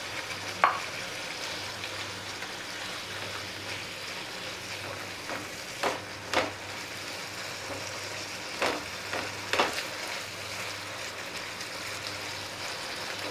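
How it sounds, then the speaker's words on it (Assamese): Flat beans frying in a pan, with a steady low sizzle running throughout and occasional sharp scraping clicks as they are stirred. "উৰাইখিনি দি দিছোঁ ভাজি লোৱা"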